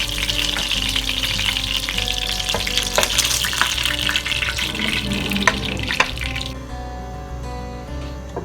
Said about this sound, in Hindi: और फिर इसी तरह दूसरा बंच डालूँगी इसमें, और वो भी फ्राई हो जाएंगे